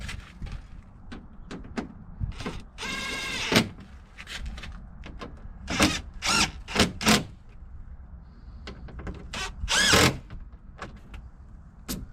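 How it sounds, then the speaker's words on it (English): A screw gun tightens bolts in a series of short, sharp whirring bursts of varying length, separated by quieter pauses and small clicks. "just take your screw gun or whatever, you can do it by hand and just tighten them up"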